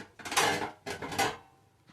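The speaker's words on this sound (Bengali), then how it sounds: "ক্যাবিনেটটা খুলে নিচ্ছি, ঢাকনাটা দেখিয়ে দিচ্ছি, সরিয়ে নিলাম" Metal lid of an amplifier cabinet opened and lifted away, two close rattling clanks with a short pause between, no talking.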